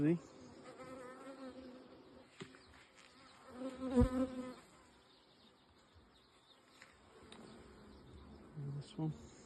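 Honey bees buzz around hive frames during an inspection of a beehive fitted with a second brood box. The hum is soft and near, with brief louder swells and a few quiet human voices.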